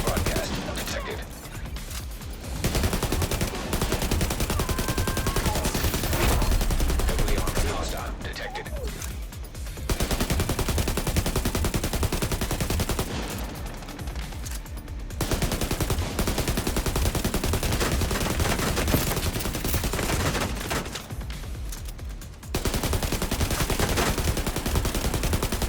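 Dense, heavy gunfire from an M1A rifle in the video game The Division 2, loud and nearly continuous with a few brief pauses, mixed under game sound and talk.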